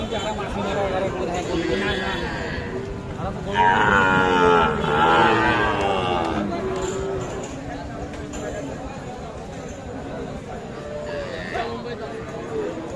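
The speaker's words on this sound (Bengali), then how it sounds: "এটা কিন্তু শাহিওয়াল জাতের সার বাছুর" Sahiwal cattle and calves at a cattle market, with a long, loud moo rising over the crowd in the middle and fainter lowing later, under steady talking and bargaining voices.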